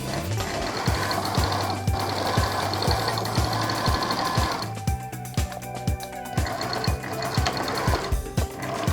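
Sewing machine stitching a placket onto the front shoulder line of a sutana robe, a loud close needle hammering at a fast steady rhythm that runs without pause, with a brief change in tone midway.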